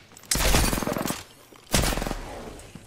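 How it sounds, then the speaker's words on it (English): Two loud bursts of rapid gunfire in Apex Legends, each about a second long with a harsh crackling rattle, separated by a short pause, close and alone without talk. "And they're shooting me."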